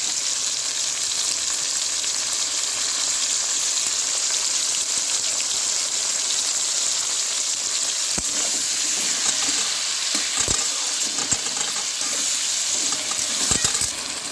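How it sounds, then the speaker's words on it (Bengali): Potatoes and tomato fry loudly in a pan, a dense continuous sizzle and crackle with occasional sharp knocks from stirring toward the end. "টমেটো দিয়ে দিলাম, আলুর সাথে একটু ভেজে নেবো"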